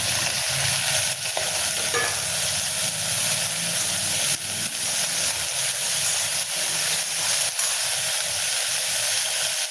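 Chopped tomato sautés and is stirred in a clay pot, a loud, steady sizzle and hiss with scraping stir strokes and a few soft knocks, no talking.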